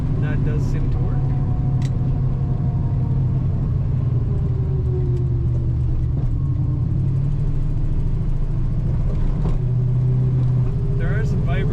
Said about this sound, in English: That Orla exhaust, 1968 Plymouth Barracuda.